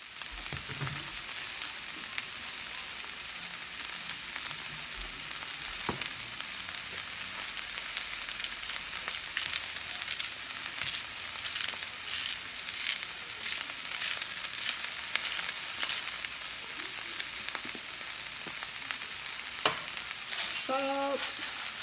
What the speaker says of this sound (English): Gonna fry that in the butter and add some seasonings, probably some sesame oil